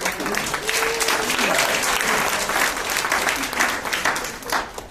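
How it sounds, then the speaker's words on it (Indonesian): An indoor audience breaks into sustained, dense applause for a team leader at a sharing session, many hands clapping together at an even level for several seconds before tapering slightly. "Beri aplaus dong untuk leader saya"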